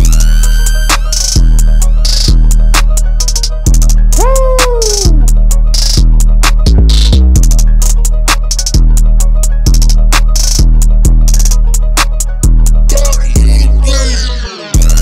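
Full trap beat built in FL Studio, loud and dense: deep booming 808 bass notes on a steady pulse with sliding pitch, snappy claps and rapid hi-hat ticks layered over a looping melody.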